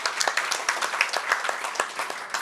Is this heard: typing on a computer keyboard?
no